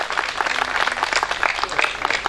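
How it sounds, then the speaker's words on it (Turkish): A crowd at a traditional village association picnic in Kurucaabat, Zara, Sivas, applauds Osman Bey in a brief, lively burst of many clapping hands, continuous and fairly loud from start to finish. "Osman Bey'i alkışlıyoruz"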